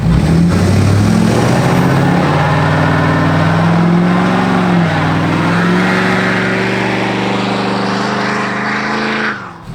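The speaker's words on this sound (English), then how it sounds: "That thing does not like spinning both tires, does it?" A lifted, squatted truck revs its engine loudly and steadily while a rear tire spins, a continuous close roar with rising and wavering tones that eases slightly near the end.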